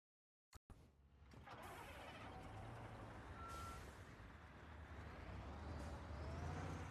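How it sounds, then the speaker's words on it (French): Reversing beeps from a truck backing up in Construction Simulator 2022, a steady engine drone filling the scene with a thin tonal beep sitting faintly above it. "Par contre le camion il est mal placé, je trouve. Faut qu'il recule un peu plus."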